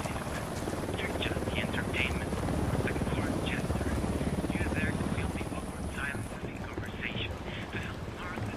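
A helicopter idles and churns in Ghost Recon Wildlands, a constant rotor drone with a thin high whine, while choppy chirping bursts and game sounds sit over the steady engine roar.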